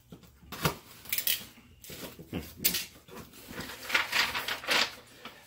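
A knife slicing and tearing strong packing tape on a cardboard box, producing several irregular scraping rips and crackles in short bursts, close and fairly loud.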